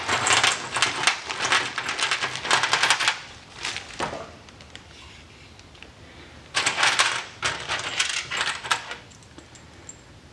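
Grade 8 bolts, nuts and washers are handled during a GT3 road race car chassis rebuild, giving bursts of close metallic clinking and jangling separated by quieter pauses.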